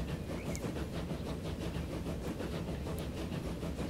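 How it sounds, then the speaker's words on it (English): Train running in the railway simulation game Transport Fever, a steady rumbling roll with a rhythmic clatter of wheels over rail joints, continuous and moderately loud with no talk. "We're going to actually follow this train"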